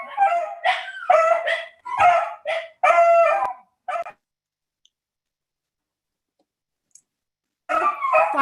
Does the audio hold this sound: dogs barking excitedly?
yes